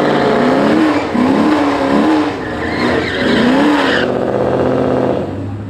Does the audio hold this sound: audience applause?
no